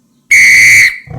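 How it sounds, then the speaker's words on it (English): A tiger whistle gives one loud, sustained, piercing shrill blast lasting about half a second, cutting off cleanly and followed by faint low rustling. "I've had this tiger whistle since high school, but it's never worked."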